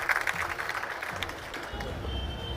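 An audience at a Haryana Tarun Sangh tribute event honoring Netaji Subhash Chandra Bose claps together in loud, continuous applause filling the hall.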